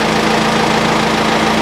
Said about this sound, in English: now I started. That's how the engine runs.